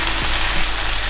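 Leeks sizzle in a pan just after a splash of water, giving a steady, close, broadband hiss that holds evenly through a brief moment with no voices.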